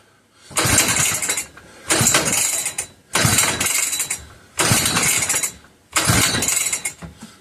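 A McCulloch 1-52 chainsaw being pull-started without firing: five loud, close ratcheting recoil pulls, each a rough mechanical rasp about a second long, separated by short pauses.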